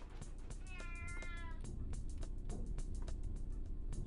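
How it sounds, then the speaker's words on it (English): A cat in the PC game Shogo lets out a drawn, wavering meow early on, clear over a low engine-like rumble and scattered clicks. "Find your frickin' toy, you dumb cat."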